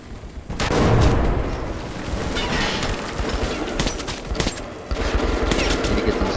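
A grenade blast and bursts of rapid gunfire from Metro 2033 Redux fill the scene, opening with a heavy boom and continuing with repeated sharp shots and crackling reports, close and loud, with no speech.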